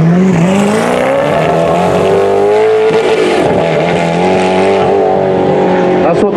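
Koenigsegg supercar in AAA yellow, a 1300-horsepower car at a concours hillclimb, revving hard and accelerating with rising engine pitch and some tyre squeal, loud and close, with people talking over it.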